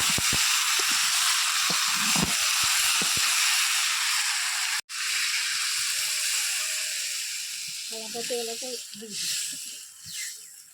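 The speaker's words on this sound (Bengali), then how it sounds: "বাঁশটা তো সেই জ্বলছে, মাংসও সেই কষানো হচ্ছে" Meat sautéing in a pot on a bamboo-fired clay stove gives a steady broadband sizzle and hiss throughout, broken by one sharp knock midway, with a few short clattering stirs near the end.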